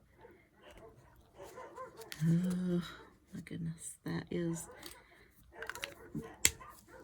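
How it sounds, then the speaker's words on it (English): A pack of stray dogs barks and yelps in a neighborhood, the bursts coming in uneven clusters and partly masked by someone talking close to the mic over the top. "this pack of stray dogs, basically, that are running through the neighborhood, terrorizing all the other ones"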